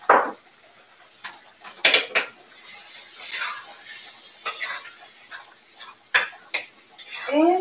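A utensil stirs chicken curry in a pot, producing irregular clinks and scrapes against the pot with soft shuffling between strikes. A voice briefly chimes in at the end.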